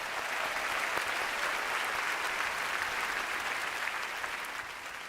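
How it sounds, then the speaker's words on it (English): Sustained audience applause fills a large hall during the Google I/O 2026 keynote, a dense steady wash of many hands clapping at even loudness for the whole stretch, easing slightly at the very end. "Round of applause for Nishta."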